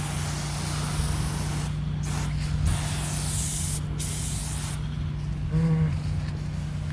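A pressure washer sprays soft wash solution onto a home's exterior with a steady, loud hiss. The spray is briefly interrupted a few times, and a faint low hum runs underneath.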